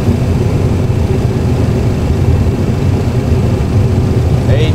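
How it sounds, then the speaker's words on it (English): Airliner engines roar loudly at a steady pitch during reverse thrust after touchdown on runway 32 at Tivat Airport, a dense continuous rumble filling the cabin. "Reverse is unlocked. Reverse thrust."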